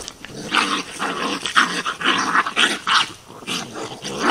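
A raccoon and a feral cat fight at close range, trading snarling growls and harsh, rasping yowls in rapid, uneven bursts.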